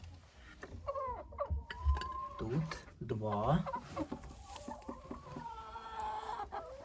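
A chicken clucks and warbles nearby while a person speaks briefly over the soft farmyard sounds.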